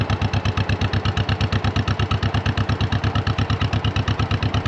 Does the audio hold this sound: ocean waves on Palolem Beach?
no